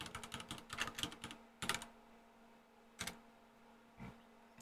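Someone types a command on a computer keyboard into a terminal: a quick run of crisp, close keystrokes, then a few isolated clicks spaced about a second apart.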